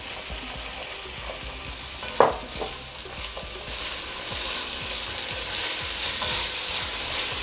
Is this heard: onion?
yes